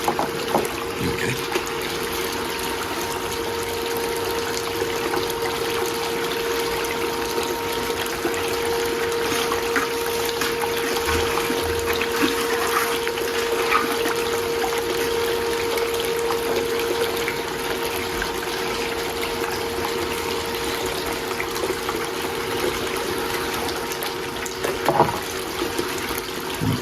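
Water flows steadily through a gold-prospecting sluice, a constant rushing trickle with a pump's steady hum beneath it and occasional faint knocks.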